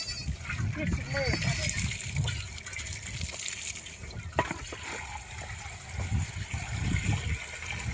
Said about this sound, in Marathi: एवढे नळाला पाणी सुटले ना